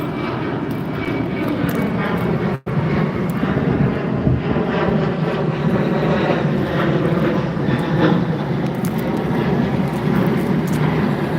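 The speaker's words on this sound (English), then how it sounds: "Where's the plane at? I keep hearing it." A loud, steady roar of an airplane engine passing overhead, droning continuously throughout with a brief cut near the start.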